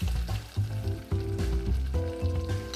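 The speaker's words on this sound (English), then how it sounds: "Gonna give it a quick stir just to integrate it." Hot caramel mixture with vanilla stirred with a heat-safe spatula, a close bubbling sizzle with quick scraping strokes that rise and fall unevenly over a few seconds.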